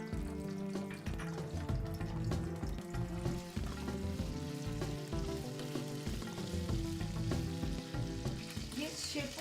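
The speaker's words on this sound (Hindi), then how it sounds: "मैंने ये अदरक और लहसुन का पेस्ट बना के इसमें छोंक में डाला है।" Ginger-garlic paste and cumin seeds frying in about three spoons of hot oil for a tempering, giving a steady, busy sizzle and crackle close up with stirring clatter, no talking.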